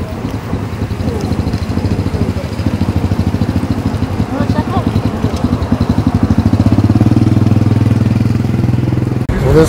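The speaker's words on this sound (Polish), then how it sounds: "Taki motor." A motorcycle engine idling close by on a street in Malaysia, a loud, steady low chugging pulse that rises slightly in the second half, with a voice talking over it.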